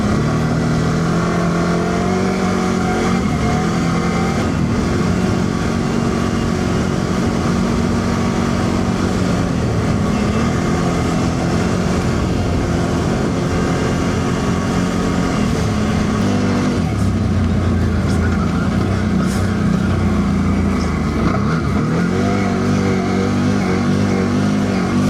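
A Loncin XWolf 1000 UTV engine roars loud and close as it accelerates on a forest drive, pitch rising and falling through the gears without a break.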